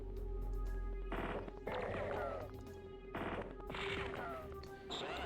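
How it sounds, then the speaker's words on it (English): Automatic gunfire and impacts in the Spellcross strategy game, bursts of shots and crashes coming in several clustered volleys over a steady low game hum. "It would be better if I just shoot these guys."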